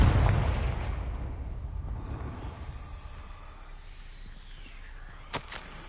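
A fire spell explodes in Hogwarts Legacy with a loud booming burst that fades into a long rumbling decay, followed by a brief sharp crack near the end.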